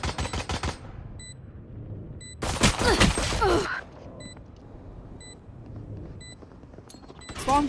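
Gunfire in the shooter video game Valorant, a rapid burst of shots at the start and a louder dense burst in the middle, with game beeps and ability effects between them.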